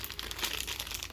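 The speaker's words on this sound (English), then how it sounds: "Frisbee, why did you open the pack?" A snack pack is torn open, a brief burst of crinkling plastic wrapper, close and fairly quiet.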